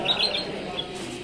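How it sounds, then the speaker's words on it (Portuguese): Yellow canaries sing in cages at a judging event, quick bright chirps and trills close by over a busy room murmur, with soft background voices. "Belíssimos pássaros."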